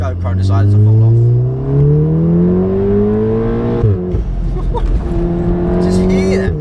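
A 380bhp Volkswagen Golf R roars loudly up through the revs in a long pull, drops with a gear change and climbs again, heard from inside the car close up.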